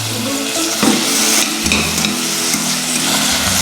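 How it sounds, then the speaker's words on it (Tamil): Chopped onions sautéing in a hot pan for Tamil-style tomato rice, giving a steady loud sizzle and crackle with occasional stirring scrapes throughout. "வெங்காயம் கொஞ்சம் நல்லா வதங்கட்டும்."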